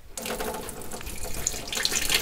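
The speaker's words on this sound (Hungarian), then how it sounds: "ezután egy vizes öblítés következik" Running tap water pours in a loud, steady stream for a rinse after developing, starting abruptly and continuing with splashing variations until the end.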